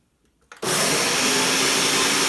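An electric mixer blending rice for horchata kicks on after a brief quiet moment and runs as a loud, steady, close whirring roar, with no voices.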